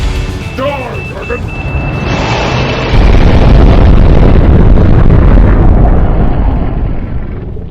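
A bomb goes off in a loud, close blast, a deep roaring rumble that swells midway and holds as a sustained heavy boom, following a brief high tone and other effects at the start.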